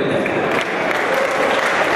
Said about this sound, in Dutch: En geef ze applaus, dames en heren, Rick en Brian.